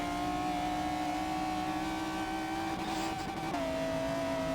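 McLaren F1 GT race cars accelerate out of the first chicane at Monza, a loud, steady engine drone whose pitch climbs and then shifts as the cars pass, with no talking.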